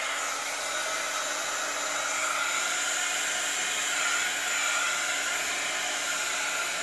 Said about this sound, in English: I don't want to burn my paint with my embossing gun.